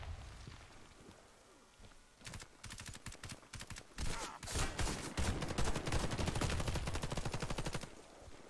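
Sniper rifle shots and bursts of gunfire in the online shooter Warface, a sharp crack near the two-second mark followed by a dense run of rapid repeated shots that grows louder and continues for several seconds.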